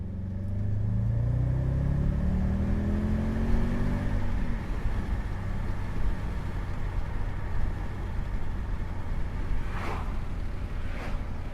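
Audi RS6 twin-turbo V8 accelerating hard, a loud rising engine note that sweeps upward then drops as the gearbox shifts, followed by steady sustained rumble and a couple of brief lighter sounds near the end, no talking.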